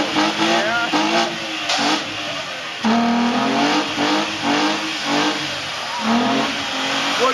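A car engine revs hard in repeated surges while the tires burn rubber, loud and close, with rising and falling pitch across several bursts.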